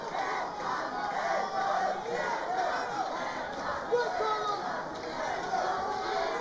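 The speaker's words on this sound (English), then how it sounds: "You hear the fans cheering Anton." Fans at a live grappling match at "Combat at the Garden" cheering and shouting for a fighter, a continuous roar of crowd noise with scattered yells rising and falling throughout.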